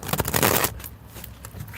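A deck of tarot cards being shuffled by hand: a quick riffle of flicking card edges followed by a few softer slides and taps, close and alone.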